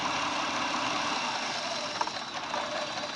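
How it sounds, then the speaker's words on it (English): Car engine idling roughly, its steady mechanical hum stumbling and nearly stalling when the EGR valve is triggered during P0401 troubleshooting, with one small knock partway through. "I'm going to activate it with the test light hooked up to ground and listen to the difference in idle"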